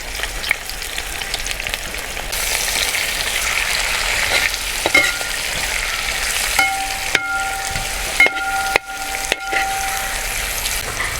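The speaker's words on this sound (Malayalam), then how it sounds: "നമ്മൾ സവാള അതിലേക്ക് ഇട്ട് കൊടുക്കണം ആദ്യം." Sliced onions hit hot coconut oil for a Kerala duck roast: a loud, dense sizzle that swells after a couple of seconds, with occasional clinks and scrapes of stirring.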